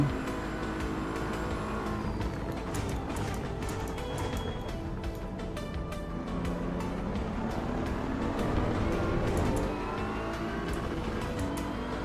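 A race car engine in Assetto Corsa EVO, played in VR, drones loudly and steadily through the whole stretch, with the pitch rising and falling through sequential gear shifts as the car brakes and accelerates.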